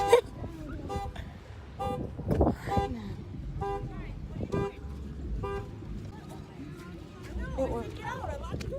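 A car alarm goes off in a Walmart parking lot, sounding a string of short, regular horn blasts that repeat through the scene while people talk nearby.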